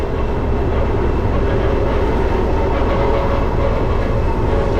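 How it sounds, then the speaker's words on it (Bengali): The 13187 Maa Tara Express passenger train on the Sealdah to Rampurhat route rumbles loudly and continuously, a dense steady roar of wheels on rails close by, with no voices. "এই হচ্ছে মাতারা এক্সপ্রেস"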